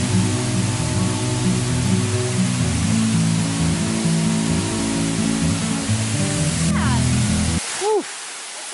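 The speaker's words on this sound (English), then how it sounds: "It's a small waterfall near." Small Leke-Leke waterfall nearby, a steady broadband rush of falling water filling the scene, with brief chirping and voice-like sounds near the end as it cuts away.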